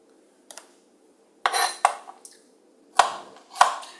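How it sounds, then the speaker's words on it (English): A kitchen knife strikes a cutting board a handful of times while food is chopped into tiny pieces for a home-cooked rava upma dinner; the sharp taps come in small irregular bursts, close and fairly quiet, with no talk. "Then I'm going to cut them into really tiny pieces so it gets cooked."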